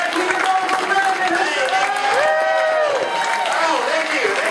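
Audience applauding and cheering at a live alligator wrestling show, steady crowd clapping throughout with a voice talking and calling out over it.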